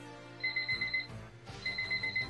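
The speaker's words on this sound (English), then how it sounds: "Oh, shut up, timer." A timer alarm rings in two bursts of rapid, steady electronic beeping, close and fairly loud with a short gap between them, with no one talking over it.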